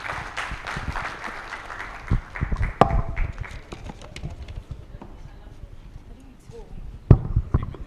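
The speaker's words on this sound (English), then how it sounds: "A round of applause for them." An audience at the SPPG Big Ideas Platform 2025 event applauds as a girls' secondary school group comes on stage, with uneven bursts of clapping and crowd noise mixed with talking nearby.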